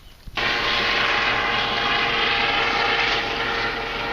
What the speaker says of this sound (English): Coast Guard helicopter fly by.